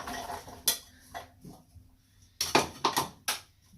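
Carrots tipped into a beef stew pot, a few sharp clattering knocks and scrapes of pieces and utensils against the pot, close and bunched in short bursts with quiet gaps, no voices.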